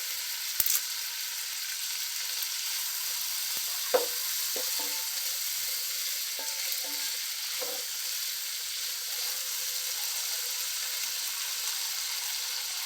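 Vegetable pulao ingredients with a bay leaf frying in a pan give a constant, even sizzle throughout, broken by a few faint knocks and scrapes of a spoon against the pan.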